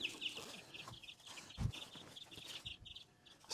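Chicks in a coop peep and cluck in a steady, busy chorus of high chirps, close by, with a brief low thump partway through and no talk.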